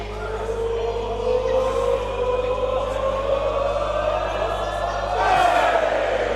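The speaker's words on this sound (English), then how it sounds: "This crowd are loving it." A wrestling crowd at a UKPW professional wrestling match cheers and shouts steadily in a large room, with a constant roar that swells slightly toward the end under a steady low hum.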